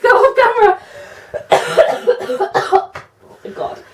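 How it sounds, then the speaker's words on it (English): Several harsh, close coughing bursts from one person, coming in quick clusters with short gaps, loud and breathy, with throat-clearing noises between them. "I really need to cough."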